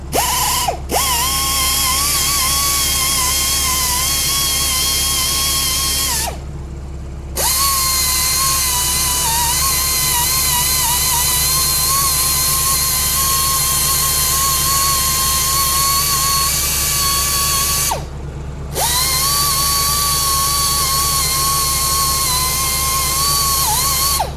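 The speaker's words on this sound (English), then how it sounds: "It's the new grinder. It's got a lot more power than the old one did." A powerful new rotary grinder runs steadily on a Porsche wheel to repair curb rash, a loud sustained whine that cuts out briefly twice before spinning back up, with no talking.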